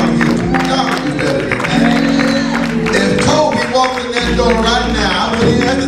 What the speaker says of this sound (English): Let's give God a hand clap of praise for our overseer